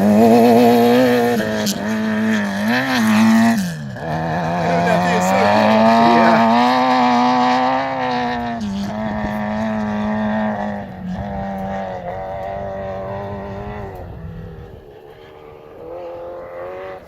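A Hayabusa-powered sand rail runs across sand dunes, its engine droning and revving loudly and close, with pitch shifts as it accelerates; voices talk over it.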